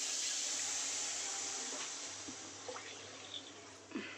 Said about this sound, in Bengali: দেখো মা জল দিয়ে দিল।